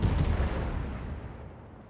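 A heavy naval gun blast in World of Warships, fired from the cruiser Des Moines, a deep booming report that rumbles and fades away over two seconds, heard alone without talk.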